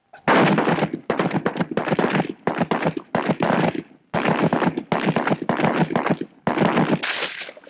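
Volleys of rifle shots ring out during Royal Marines weapons training, loud sharp cracks fired in rapid bursts of several rounds with brief pauses between, no voices.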